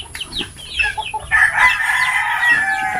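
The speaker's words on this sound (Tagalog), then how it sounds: "manok," A chicken, likely a rooster, crows loudly and clucks close by, with several rising calls layered over scattered farmyard background noise.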